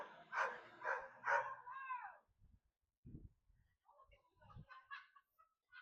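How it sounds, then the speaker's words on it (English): A very loud dog barks nearby outdoors during a walk, a quick cluster of three or four harsh barks followed by a pause and then softer, scattered yips and bursts. "Excuse the very loud dog."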